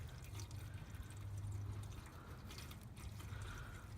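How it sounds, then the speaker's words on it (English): Distilled water poured into the steel fuel tank of a 2007 Suzuki GZ250 motorcycle to clean out rust, a steady low gurgling pour running throughout at moderate level with no talk. "now we're gonna put the water, distillated water,"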